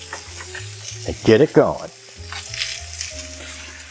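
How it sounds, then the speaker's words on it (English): Food sizzles loudly in a hot frying pan, with a sharp burst of crackling and stirring partway through, while someone speaks briefly over the cooking. "we're gonna start pan frying"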